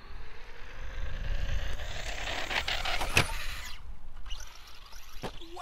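A Traxxas Stampede RC truck on 3S power whines as it accelerates under throttle, a high motor tone that builds and then cuts off, followed by a couple of sharp clicks.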